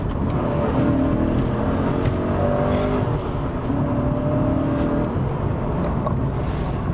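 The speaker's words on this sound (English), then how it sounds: "There's just something so addictive about that thick, yummy, torquey V8." A Holden VE Commodore V8 ute engine runs in a deep, steady rumble with swelling pitch as it revs, heard continuously and fairly loud over road noise, with no one talking.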